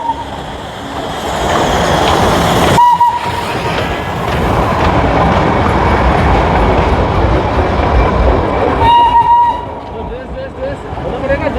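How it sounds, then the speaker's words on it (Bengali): A Darjeeling toy train steam engine rumbles past nearby, one of two toy trains running back to back, with a steady rolling roar and a couple of brief whistle-like tones over it while a person talks. "এটা স্টিম ইঞ্জিন"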